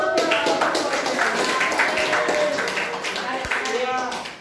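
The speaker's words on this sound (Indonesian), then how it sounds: "Iya, tepuk tangan buat dia." Students in a classroom break into applause for a classmate, a dense burst of clapping close by, mixed with chatter and voices, gradually tapering off toward the end.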